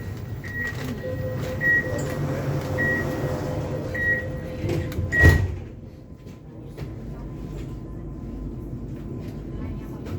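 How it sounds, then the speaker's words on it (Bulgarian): Metro train doors on Sofia's M3 line slide shut with a brief thud amid the steady low rumble of the carriage, preceded by chime-like tones, a door-closing warning and a murmur of voices. "Вратите се затварят."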